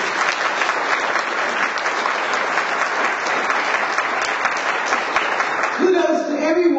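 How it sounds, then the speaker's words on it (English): Sustained audience applause at an NAACP annual gala in Danbury, a dense steady wash of clapping from a large crowd that fades out near the end as a voice begins. "Why don't we all give them a round of applause?"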